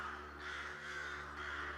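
Crows caw a few times against a soft, steady background, the calls moderately distant and spaced apart.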